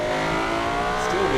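A car from the racing game Automation launches with its wheels spinning, a loud steady engine drone with a rising whine at the end, heard close throughout and with no talk.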